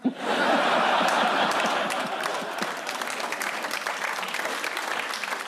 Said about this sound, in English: A British audience clapping uncertainly.